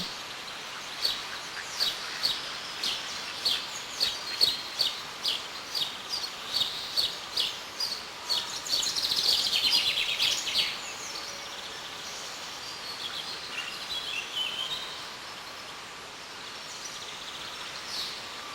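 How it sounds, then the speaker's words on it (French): Repeated calls of a moorhen and its chicks in a rhythmic series of sharp chirps, followed by a busier stretch of calling, heard from a moderate distance outdoors by water. "Vous allez voir la poule d'eau qui va mettre ses petits à l'eau"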